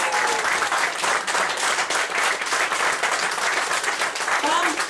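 Dense, sustained audience applause breaks out after a card magic trick reveals the Jack of Hearts, steady and loud throughout with a few voices faintly mixed in.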